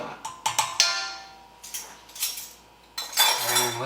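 A spoon clinks and scrapes against a bowl while stirring yeast mixture with olive oil for French bread dough, giving a run of sharp, close taps at an uneven rhythm with brief quiet gaps.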